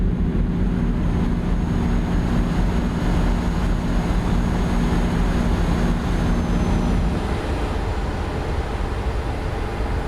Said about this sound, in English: Let's see how noisy we are when we open the windows.